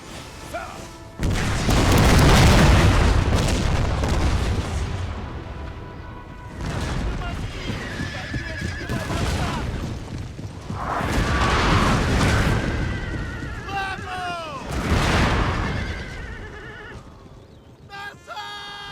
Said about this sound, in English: Let the artillery pound, pound, pound away.